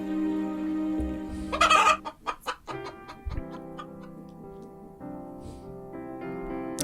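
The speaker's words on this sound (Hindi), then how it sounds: "अब मुर्गी का क्या सीन है?" Chicken clucking in a burst of sharp, rapid calls around the second mark, tapering into a few separate clucks, over a steady musical or electronic tone bed.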